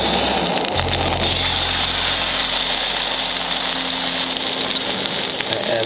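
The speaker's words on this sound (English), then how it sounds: "I'm going to start off just with some hot oil in the pan." Marinated trout frying in hot oil in a pan, with a loud, continuous, close-up sizzle and crackle throughout, a low hum underneath and no talking.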